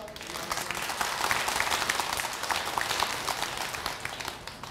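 Temple congregation at a Buddhist dharma service clapping together, a steady, moderately loud patter of many hands with faint voices mixed in.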